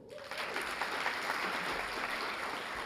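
An audience at a police department annual awards ceremony applauds the deputy chiefs of patrol and investigations, a steady, even clapping from a crowd that holds throughout without a break.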